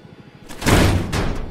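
A door bursts open in the Call of Duty: Black Ops Cold War video game, a sudden loud wooden thump and scrape after a short quiet build, close and heavy, with no talk over it.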